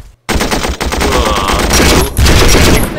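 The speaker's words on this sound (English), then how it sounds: "They're getting shot at." Dense gunfire from the Battle Academy Blitzkrieg France war game: a loud, continuous crackle of rifle and machine-gun bursts, with a brief gap near the start and again around the two-second mark.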